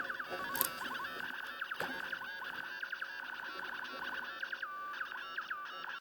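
A fox hunt transmitter tone received on a HackRF Portapack radio with small indoor antennas, heard as a steady warbling, chirping electronic signal with rapid pitch wiggles and faint static, held close and fairly quiet for the whole stretch.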